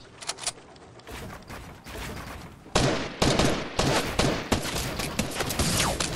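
Rapid bursts of gunfire from the Fortnite video game crackle in dense volleys, starting lighter and growing louder and more continuous after a few seconds, with sharp repeated shots and no talk.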